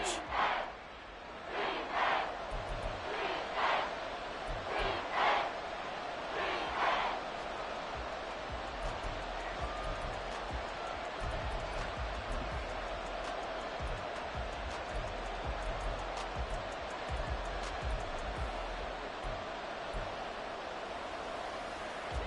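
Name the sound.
stadium crowd roaring, from a football video game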